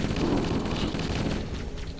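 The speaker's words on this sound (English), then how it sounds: "Plasma being shot at me." Plasma weapon fire in Halo: Combat Evolved during a fight with the Flood: a dense, continuous wash of crackling blasts and impacts, loud and sustained throughout.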